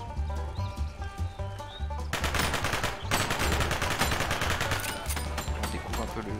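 Gunfire in the American Fugitive video game, set in Texas: a continuous run of rapid, loud shots with bursts of automatic fire, playing over a steady low background score.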